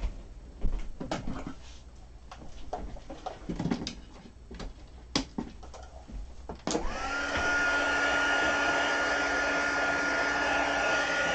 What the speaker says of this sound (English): I'm going to hit it with a heat tool just real quick